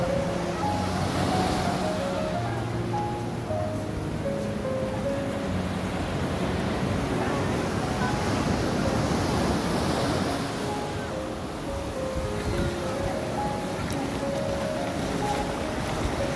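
Strong ocean waves break against a rocky shore at a tidal pool, a loud continuous roar of surf with wind buffeting the microphone and surging swells rising and falling throughout.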